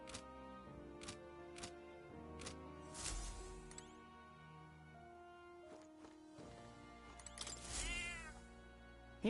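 A cat meowing in the video game Metaphor: ReFantazio, several short mews and a couple of longer drawn-out meows over soft game music, fairly close and clear.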